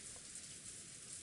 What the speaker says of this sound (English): Pouring rain landed evenly across the ground everywhere.